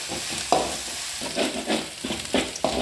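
Ginger-garlic paste frying in a pan with a steady close sizzle, broken by three or four sharp scraping stir strokes spaced about a second apart.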